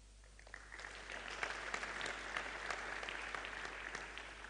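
Steady applause from a crowd, continuous clapping at moderate volume heard from a distance, with no voices over it.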